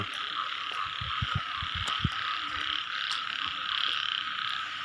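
Frogs croak in a rainy night setting, a run of low repeated calls stacked over a steady hiss of rain and insect-like high drone, fairly close and continuous.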